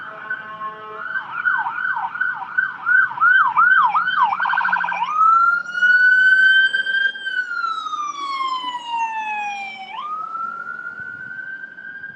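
An ambulance siren passing outside a camp gathering, loud and near, first a rapid wailing yelp and then a long rising and falling wail that dips as it moves on.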